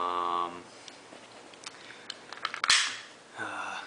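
Sharp mechanical clicks and a snap come from the magazine release of a Kel-Tec P3AT .380 Auto pistol being worked, a few scattered near clicks between quieter handling noise, with no talk.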